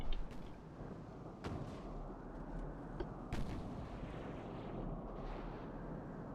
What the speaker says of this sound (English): Danzig is taking fire from the armored cruiser, I believe.